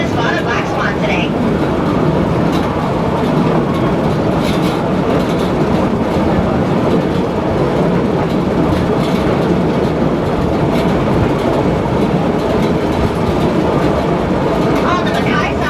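Hawaiian Railway train rolling along the tracks near Ko Olina on Oahu, a steady loud rumble with rattling wheel clatter that continues without a break.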